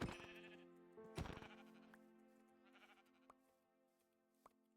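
A Minecraft sheep's bleat sounds with a synthetic game-like tone, followed by a few quiet clicks and short blips.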